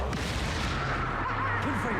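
Expulso explosion spell cast in Hogwarts Legacy, a heavy rumbling boom that fills the whole moment, loud and sustained with low thudding, voices faintly underneath.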